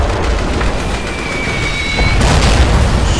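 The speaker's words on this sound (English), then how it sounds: "Huge barrage." Heavy artillery barrage in a WWII strategy game, with Panthers, rockets and flak guns firing on Soviet forces: a dense, loud wall of booming blasts and rumble that swells louder near the end.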